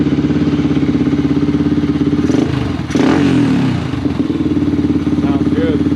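A Honda XR400 dirt bike engine running close by, a loud, steady rhythmic thumping idle with a brief blip of revs in the middle before settling back.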